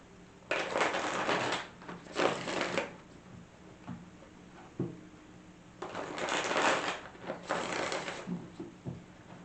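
Tarot cards being shuffled by hand, four separate bursts of riffling in two pairs with short pauses and light taps between them, close and fairly quiet, with no talk.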